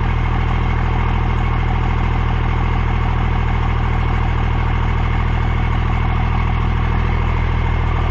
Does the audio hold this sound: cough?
no